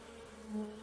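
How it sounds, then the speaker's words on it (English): A brief, faint low buzz of honeybees droning nearby, steady with a slight swell in the middle. "these honeybees have been buzzing around the local flowers"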